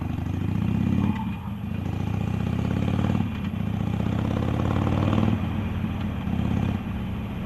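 A 2013 custom Harley-Davidson Iron 883 Sportster rumbles along a slow road ride, its low engine drone steady and close with dips as the throttle eases, wind noise mixed in.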